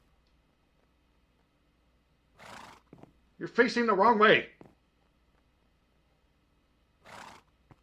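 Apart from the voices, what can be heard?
horses neighing in Minecraft video game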